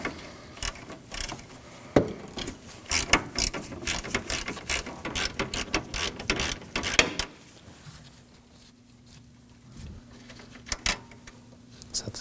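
Rapid ratcheting clicks from a wrench loosening a 10 mm fitting on a Nissan Sentra AC condenser line, in close bursts that give way to quieter scattered clicks.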